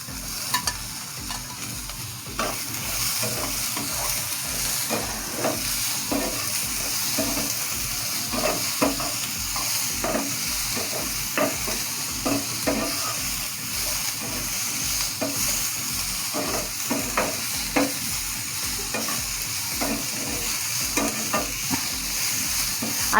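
Onion and tomato frying in a pan for misal gravy, a steady close sizzle broken by repeated scraping stirs of the spatula, with no voices.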